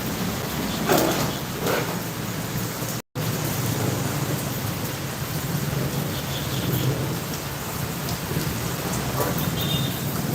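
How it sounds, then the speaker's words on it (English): Heavy rain pours steadily outdoors in Cebu, Philippines, a dense continuous hiss with low rumbling beneath, loud and unbroken apart from a momentary dropout. "It was such a hot summer here, and blue skies, and now just rain."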